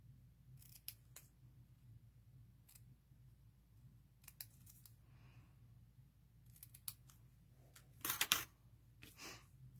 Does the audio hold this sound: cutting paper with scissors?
yes